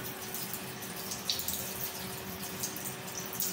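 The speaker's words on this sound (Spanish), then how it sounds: "No quiero que me esté tirando el agua." Water from a plumbing leak whose shut-off valve is blocked, running in a steady hissing stream with a faint constant tone underneath, fairly close and continuous, with no talking.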